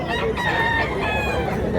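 Chickens and roosters at a busy poultry market in Mantalungon, Cebu, crowing and clucking steadily with overlapping calls throughout, close and loud against a dense crowd background.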